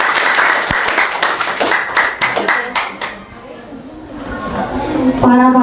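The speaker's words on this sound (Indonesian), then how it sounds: "tepuk tangan untuk Pak Menteri" An audience at a school student council candidates' debate claps in a dense burst of applause lasting a few seconds, fading to murmuring room noise, with a voice heard near the end.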